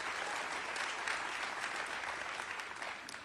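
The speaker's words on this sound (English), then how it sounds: "Let's have a nice other round of applause for Leo, because Leo's done a great job." Steady applause from a seated audience at a storytelling festival event for a books editor, dense and continuous clapping filling the room at moderate level without voices.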